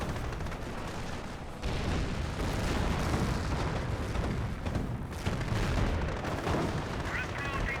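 Gunfire and artillery in the strategy game Company of Heroes, a dense barrage of rapid shots and booming blasts that keeps going throughout and grows heavier partway in, with voices in the mix.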